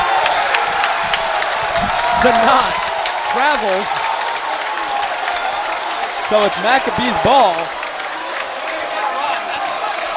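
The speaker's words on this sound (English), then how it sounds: "Crowd starting to get into this one." Crowd cheering and applauding at a Skyline Conference semifinal college basketball game, YU Macs versus Farmingdale State, a steady roar of noise throughout with a commentator talking over it.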